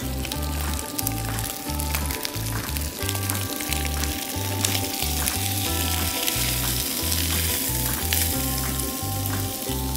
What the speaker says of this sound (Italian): Dopo abbiamo fatto rosolare il pesce